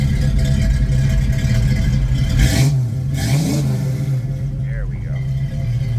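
A 1966 Ford Mustang GT350H tribute with a C-code 289 V8 and automatic transmission rumbles steadily from its exhaust, swelling into a brief rev, while someone speaks over it from nearby.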